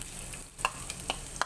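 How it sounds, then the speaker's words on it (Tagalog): Ginger sautéing in a pan gives a steady, soft sizzle with a few light clinks of a utensil stirring. "Gisa lang natin yung ginger"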